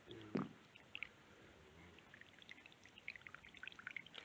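Water gurgling through a tractor water line: sparse, faint gurgles and drips scattered through a quiet stretch, with a fuller splashing burst near the start and a sudden loud rush at the very end.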